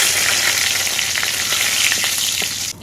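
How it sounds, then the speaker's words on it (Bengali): Whole spices, dried chillies and bay leaves tempering in hot oil in a wok, a loud, dense, steady sizzle close up that cuts off abruptly at the end. "তেল গরম হয়ে গেছে বন্ধুরা, পাঁচফোড়ন দিয়ে দেবো, কয়েকটা শুকনো লঙ্কা,"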